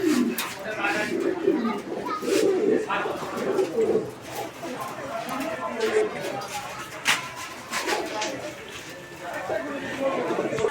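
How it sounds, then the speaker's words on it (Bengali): Fancy pigeons in a loft coo in low, soft repeated phrases that overlap with busy bird chatter and the occasional flutter, while voices murmur faintly in the background. "চমৎকার আরও একজোড়া কবুতরের কালেকশন রয়েছে"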